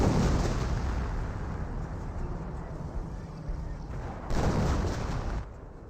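Booming 25-pounder and mortar artillery fire in Company of Heroes rumbles as a dense, continuous barrage, with a heavier burst near the end before it thins out.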